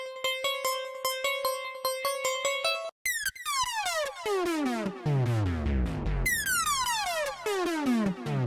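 Synth keyboard notes play a quick repeated melody, first with short plucky tones, then shifting to a brighter, sweeping patch with deep low swells.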